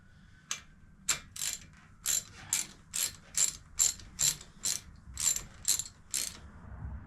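A ratchet wrench tightens a spark plug on a Harley-Davidson Street Bob 114, giving about a dozen crisp, evenly spaced metallic clicking bursts up close, with no voices.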